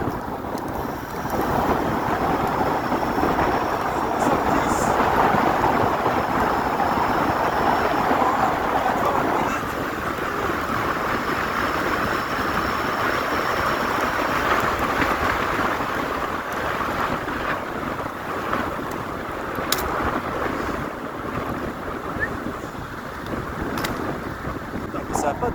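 A Dualtron Storm Limited electric scooter accelerates hard to high speed, its rush buried under loud, continuous wind buffeting the microphone, with a faint whine running through the roar.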